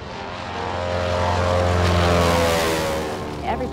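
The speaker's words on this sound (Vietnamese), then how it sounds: "máy bay đang cất cánh" A propeller aeroplane takes off with a loud, steady engine drone and whirring that builds and then eases slightly, close by with no talk.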